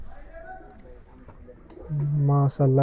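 A Giribaz pigeon at a loft gives a short, resonant coo near the end, after someone speaks softly nearby amid faint rustling.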